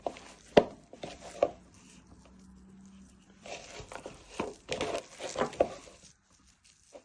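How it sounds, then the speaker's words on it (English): Meatball mince being mixed and broken down with egg and breadcrumbs, wet squelching and pressing sounds in irregular bursts, close up, with a quiet pause midway before the mixing resumes. "at first we're just binding it, breaking all the mince down"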